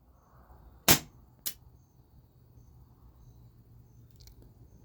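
An Umarex Heckler and Koch VP9 air pistol fires rubber balls: one sharp loud crack, then a second weaker snap just after it, and later a faint click against quiet room tone.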